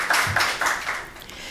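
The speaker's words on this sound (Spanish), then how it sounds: "Con un aplauso, démosle la bienvenida" Light audience applause welcoming a speaker at a lecture on Borges's poetry, a few brief claps at low level that fade quickly.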